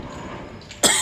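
One sharp, close cough bursts out near the end after a quiet stretch of room noise, a single harsh throaty expulsion in cold, frosty weather.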